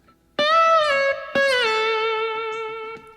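Two sustained distorted electric guitar notes ring out, the second sliding down in pitch and slowly fading, played alone.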